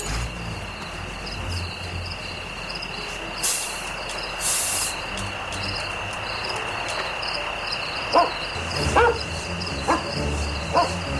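A dog tracking a scent trail in a Sherlock Holmes video game, short sniffs and small bursts of movement over a steady chirping night ambience with a faint high tone throughout.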